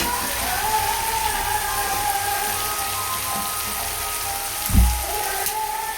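Hot water meets spice masala frying in a pan, setting off a steady, close hissing sizzle with a brief dull knock partway through.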